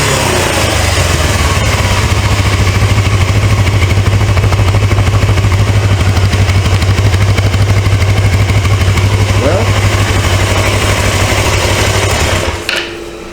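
A 1980s Suzuki GS 450A automatic motorcycle with a small oil leak idles steadily, a loud, close, even engine thrum with a low rumble, cutting off abruptly near the end.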